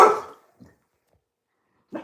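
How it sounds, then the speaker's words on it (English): Dogs at home give one sharp bark followed by two faint short yips after pauses, heard close with no talking. "The dogs are saying bye to you."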